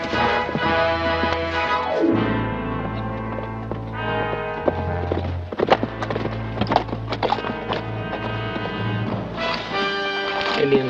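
Horses' hooves clip-clop in a steady rhythm, with an occasional neigh, over a swelling orchestral score from a 1960s Western television drama.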